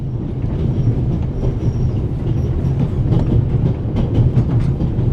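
A train rolls along rails in the video game The Raven, a steady loud rumble with rhythmic clacking and faint metallic squeals throughout, no voices.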